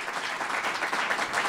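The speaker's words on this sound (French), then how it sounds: "Dorothée Brouwer, est-ce qu'on peut applaudir évidemment pour cette première conférence de ce cycle" An audience at a French conference series applauds at the end of the first lecture, a steady, dense wash of clapping throughout the short stretch with no voices over it.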